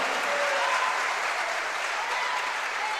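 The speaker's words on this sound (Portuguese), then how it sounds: "dê uma salva de palmas para Jesus" A church congregation claps together in sustained, even applause, a dense wash of many hands heard at moderate distance without talk.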